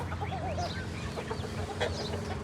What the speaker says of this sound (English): This is one of our hens that hatched out chicks a few weeks back.